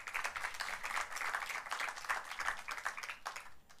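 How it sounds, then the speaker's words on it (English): An audience at a climate summit session claps as a speaker comes up, producing moderately loud, continuous applause with a slightly pulsing rhythm. "A round of applause as she comes up."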